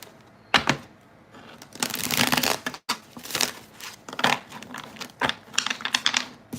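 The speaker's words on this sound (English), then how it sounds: "I'll give this deck a little shuffle." Tarot cards shuffled in several quick riffling bursts with short pauses between, close and crisp, no talking.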